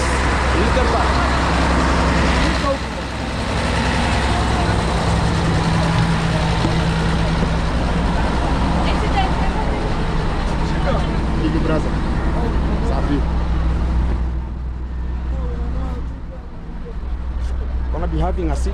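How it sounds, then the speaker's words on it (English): A bus engine drones loud and steady, layered with road traffic noise while passengers board. The low rumble runs the whole time with short dips, and voices can be heard beneath it. "Let's board the bus and kick off from here."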